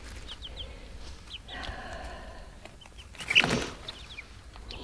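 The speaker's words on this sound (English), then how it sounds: "Here's some new chickens. 8 new chicks." Eight small chicks cheep in short, high peeps scattered throughout, with some rustling and a brief louder flutter near the end.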